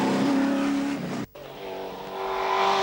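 A touring race car at the Bathurst 1000, its engine screaming at high revs close by, dropping out briefly on a gear change before climbing again.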